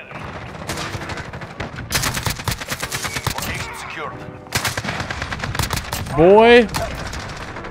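Rapid bursts of AK-47 gunfire from Call of Duty: Modern Warfare come in repeated volleys, loud and sharp, with in-game effects and a player's voice talking over the action.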